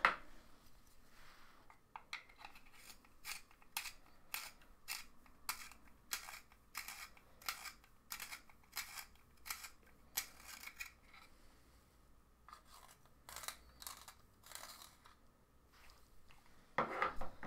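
A pencil is sharpened in a handheld sharpener, giving a quick series of scraping, grinding strokes, roughly a dozen in steady rhythm, close and fairly quiet with short pauses between bursts and no talk.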